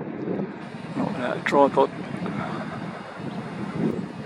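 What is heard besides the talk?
wind blowing on microphone outdoors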